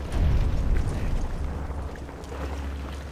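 A rocket launcher blast in the video game Resident Evil 5 rumbles as a loud, sustained low-heavy boom with crackling debris texture lasting about three seconds, with no voices over it.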